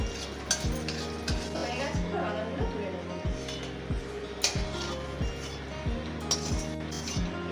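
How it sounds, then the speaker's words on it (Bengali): Peanuts frying in hot oil with a little salt and stirred lightly, giving a low, steady sizzle with scattered soft clinks of a spoon against the pan. "বাদাম আমি ভেজে দেবো একটু লবণও দিয়ে দেবো হালকা নেড়ে ছেড়ে"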